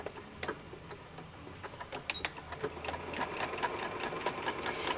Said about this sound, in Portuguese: Abaixo o calcador e vou alinhar os dois tecidos aqui e faço a costura.